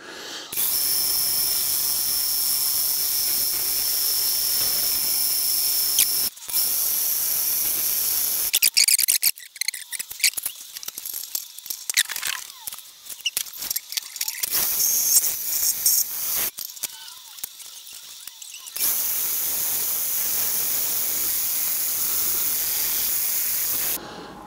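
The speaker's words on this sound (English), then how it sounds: "So we'll bob this in the lathe and we'll face this end off here first" Metal lathe facing off the end of a Specialized Levo bike part: a steady high-pitched cutting hiss and whine in long stretches, broken by quieter gaps of clicks and handling noise, close and continuous.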